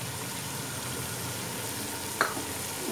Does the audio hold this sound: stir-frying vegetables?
yes